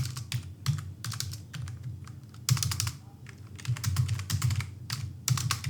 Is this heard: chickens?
no